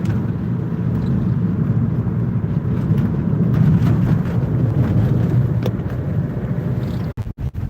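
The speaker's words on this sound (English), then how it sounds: "There's cars down there." Steady low traffic rumble from cars on the Beltway freeway below during a Las Vegas snowstorm, a continuous distant roar with no voices, ending in a few sharp clicks.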